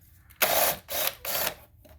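Cordless hand drill works on a 2010 Honda CR-V during a spark plug tune-up, three short whirring bursts close by with brief pauses between them.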